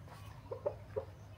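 A few soft clucks from a rooster in Siquijor, Philippines, three short calls spaced apart over a quiet low hum.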